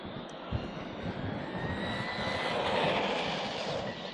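An HBX 16889a or MJX 16207 RC car runs at full throttle down a straight, its motor giving a loud, continuous high-pitched whine over a dense rush of noise that swells slightly.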